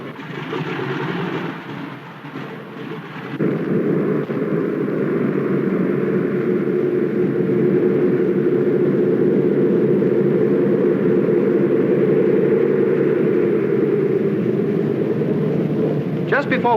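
Douglas DC-2 piston engines run up on the ground before takeoff: a short stretch of hiss gives way to a steady, loud, droning engine roar that holds evenly for many seconds.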